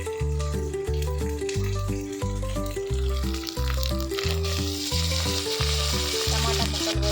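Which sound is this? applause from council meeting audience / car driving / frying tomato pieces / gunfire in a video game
frying tomato pieces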